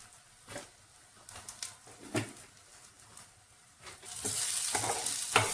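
Spice powders are stirred into frying peas for batani chaat, a soft scraping of spoon against pan with dull knocks, then a louder steady sizzle swells near the end, close and with no talk.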